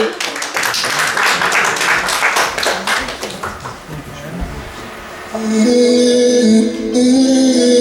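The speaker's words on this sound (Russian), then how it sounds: "Встречайте также громкими аплодисментами наших друзей!" Loud audience applause welcoming guests at an international exhibition event for Russian and foreign artists: dense, rapid clapping for about five seconds, then it gives way to music that continues to the end.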